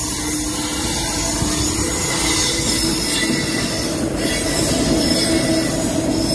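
Train rolling past on a railway line, a loud, steady roar of wheels and wagons with squealing rail noise and faint clatter, close by and continuous throughout, with no speech.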